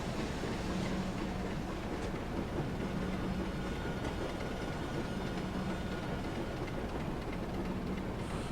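A BR Class 27 diesel locomotive in Train Simulator 2016 on the Western Lines of Scotland, a steady low engine drone with a faint recurring hum, constant and moderately quiet with no talk.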